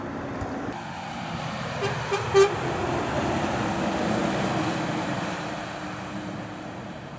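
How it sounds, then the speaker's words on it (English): A Volvo lorry hauling an Omex tanker gives a brief horn peep over steady roadside traffic noise, a short tonal toot standing out amid the passing rumble at Fosdyke. "Peep of the horn and a wave from our friend in the Volvo with a Omex tanker on the back"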